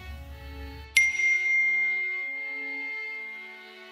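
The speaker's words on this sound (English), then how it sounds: "You have one unread text message from Mommy" A phone chimes once for an incoming text message, a single bright ding with a long ringing tail that slowly fades, following a brief low rumble.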